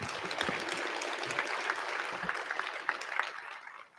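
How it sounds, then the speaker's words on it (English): An audience at a public works and infrastructure property conference claps together in a dense, moderately distant round of applause that fades at the end. "One last round of applause."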